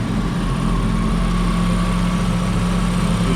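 A junkyard engine with an idle air control issue, just fired up for the first time after install, holds a loud, steady, rumbling idle close by, with no talking.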